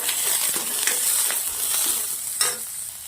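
Finely chopped onion, plenty of garlic, almonds and cashews sautéing in a pan with whole black and white peppercorns and cardamom, a steady close sizzle and frying hiss with faint stirring scrapes throughout, no voices.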